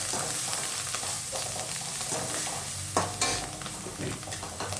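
An onion and pepper mixture fries in a pan with a continuous close sizzle and repeated spatula stirring scrapes, a sharper clatter near the middle.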